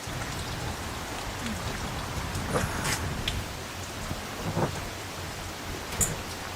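Heavy rain pours steadily on surfaces while thunder rumbles, with a few louder rolls standing out from the constant hiss. No voices are heard.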